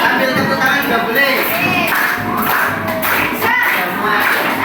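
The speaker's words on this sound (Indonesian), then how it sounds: "Sambil tepuk tangan juga boleh." Children in an elementary school classroom clap along as they sing together, a steady mix of hand claps and young voices filling the room at close range.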